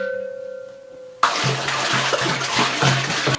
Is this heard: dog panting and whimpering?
no